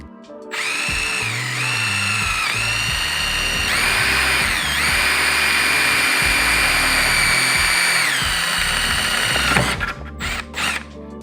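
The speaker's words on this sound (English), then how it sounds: "You're going to drill through the red plastic" A power drill with a 7/32 bit bores through the red plastic and metal of a Milwaukee Packout box, a loud steady motor whine that shifts pitch under load for about nine seconds before stopping with a few clicks.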